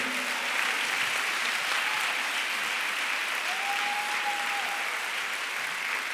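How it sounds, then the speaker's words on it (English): Audience at an annual conference applauding, a dense, steady round of clapping that carries on evenly and fairly loudly for the whole stretch. "I think she deserves a louder round of applause."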